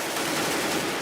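A Counter-Strike: Global Offensive headshot during a professional match on de_nuke rings out as a brief burst of rapid gunfire, dense and moderately loud.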